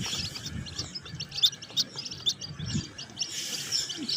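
Fancy chicks, Buff Cochin bantam, White Silkie and White Polish, at a backyard hatch in Lahore, chirping in a continuous overlapping flock of high, rapid peeps, near and moderately loud, with no talking.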